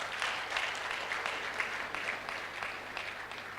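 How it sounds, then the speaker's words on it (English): Faint, distant applause from a large architects' conference audience at an opening ceremony, a steady wash of clapping without voices. "Please, can we give ourselves a round of applause?"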